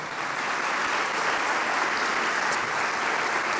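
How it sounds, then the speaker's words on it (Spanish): A church congregation at a Spanish-language service claps together in dense, sustained applause: a steady, loud wash of many hands with no breaks, and no voices standing out. "Da una ofrenda de aplauso de gloria al Señor."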